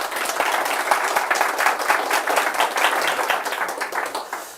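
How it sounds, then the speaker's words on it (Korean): An audience claps steadily and fairly loudly throughout at the opening of the ninth World Management Roundtable Forum, a dense, continuous applause with no pause. "박수로 환영해 주시기 바랍니다."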